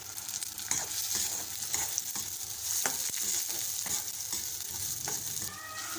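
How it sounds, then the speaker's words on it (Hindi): Onions sizzle and fry in a pan for an okra masala, with steady crackling and scraping clicks of stirring, close and moderately loud with no talk. "अब हम इसमें प्याज डालेंगे।"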